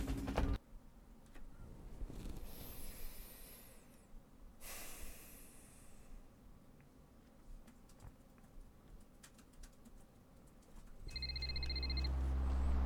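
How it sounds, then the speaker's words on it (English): In Vampire the Masquerade: Bloodlines, a phone rings in the game, a trilling electronic tone that starts late and repeats in short bursts over low game ambience after quieter breathy noises. "that is the phone ringing that we were told that Gary would call us on"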